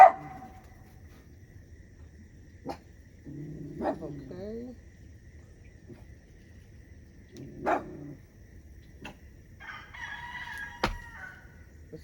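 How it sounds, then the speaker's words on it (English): Scattered dog barks from a couple of dogs at a distance, spaced irregularly, with a rooster crowing faintly in the background. "They're barking at different things apparently"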